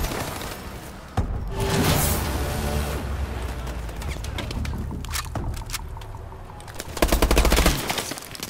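Gunfire in Call of Duty: Advanced Warfare, with bursts of automatic shots and heavy blasts over a dense battlefield din, loudest near the start and again near the end.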